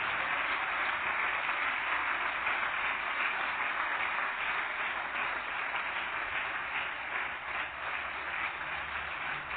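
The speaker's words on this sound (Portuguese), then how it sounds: "Vamos aplaudir o Senhor Jesus por cada vida que está chegando" A church congregation applauding: a steady, dense wash of many hands clapping together that holds evenly for nearly ten seconds, moderately loud and somewhat distant.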